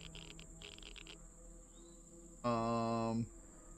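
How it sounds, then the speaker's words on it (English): A cricket in the video game Empyrion: Star Salvage gives one sustained buzzing chirp lasting under a second, close and clear over faint ambient game hum. "I see you, cricket."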